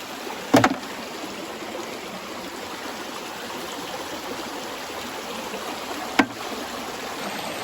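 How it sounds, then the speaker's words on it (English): A loud creek rushes in a steady, continuous wash with no speech, broken by two sharp knocks near the start and one more toward the end. "I really hope that you can hear over the creek. It's super loud"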